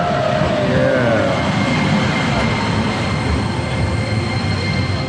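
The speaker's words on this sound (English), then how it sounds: "And this is the train." A train passing near Dōgo Onsen in Matsuyama, Japan, a loud close rumble of wheels on rails with a brief squeal early on, continuous throughout.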